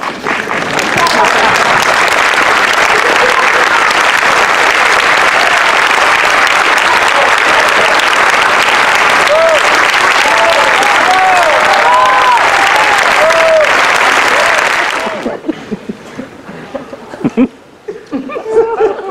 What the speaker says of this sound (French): Et eux, ils applaudiraient d'abord doucement.